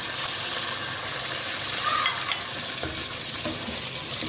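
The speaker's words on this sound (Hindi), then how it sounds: "प्याज को हम गोल्डन करने तक जो है वो वेट करेंगे।" Onions fry in hot oil in a pan as the first step of a mutton and chana dal gosht, giving a steady, close sizzle with soft stirring scrapes throughout and no talking.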